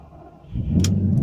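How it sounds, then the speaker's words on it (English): A Lamborghini's engine cranks and fires up, the low rumble swelling quickly into a steady, close idle inside the cabin. "Key in the ignition. Let's start it up."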